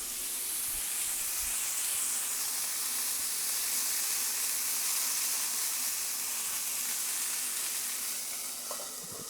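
Broccoli cooking in a hot pan with butter gives a steady, close, even sizzle and hiss that holds at the same level throughout, with no voices.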